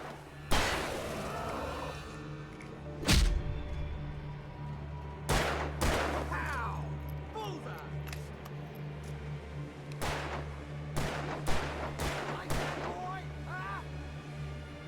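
Single gunshots fired in the video game Alan Wake Remastered, sharp loud bangs spaced irregularly, several in quick pairs near the end, with a low steady hum beneath.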